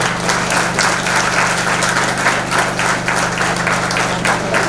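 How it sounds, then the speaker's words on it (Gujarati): Sustained applause from an audience at a religious Ram Katha discourse, steady clapping at even loudness throughout with a low hum underneath, no talk. "તો તાળીઓ વગાડો."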